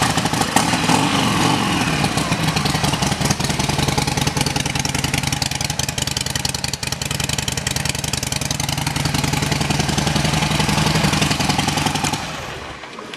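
A 2007 Harley-Davidson XL1200L Sportster Low with a Stage 1 kit (pipes, high-flow air intake, computer flash) idles with a steady, loud, throbbing burble for about twelve seconds, then cuts off near the end.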